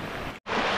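Steady rushing roar of water from a waterfall, loud and close, briefly cut by a split-second dropout before the broadband wash resumes.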